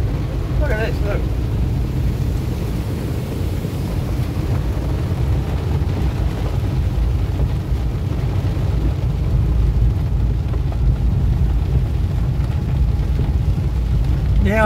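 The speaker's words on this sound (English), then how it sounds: "Look at the waterfall, look." Waterfall on Wheeney Creek, a muddy creek feeding the Colo River in New South Wales, giving a steady broadband rushing roar throughout at close range, with a voice speaking briefly over it.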